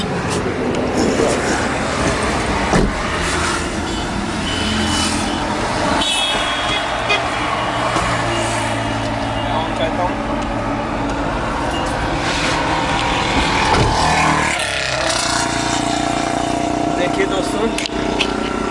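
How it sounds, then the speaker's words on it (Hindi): A car being driven on the road for a no-brakes stopping demonstration, with steady engine and road rumble throughout and a brief horn toot, under continuous talking. "सबसे पहले मैंने गाड़ी को चलाना है"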